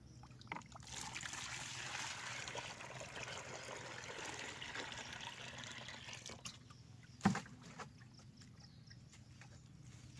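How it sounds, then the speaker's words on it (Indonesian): Water poured into a fertilizer mixture for a first fertilizing round, a steady trickling and splashing that runs for about six seconds and then eases off, with a single sharp knock near the end. "Nah, lalu kita ini sahabat tani, kita masukin airnya."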